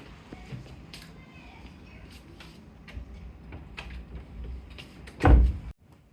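Quiet classroom noise with soft shuffling, then a door thuds shut nearby near the end.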